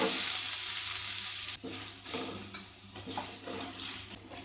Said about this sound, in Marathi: कांदो मातसो परतून घेवपाक जाय